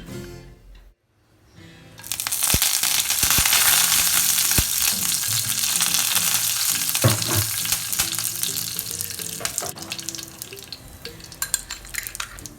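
Curry leaves hit hot ghee in a pan and burst into a loud, steady sizzle after a short quiet start, with crackling pops and a few scraping stirs running throughout.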